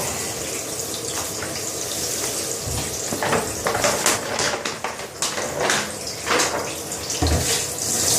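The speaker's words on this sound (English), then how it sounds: "Fill the bucket with water." Water gushes and splashes into a bucket with a hissing, bubbling rush and occasional sloshes, close up and continuous.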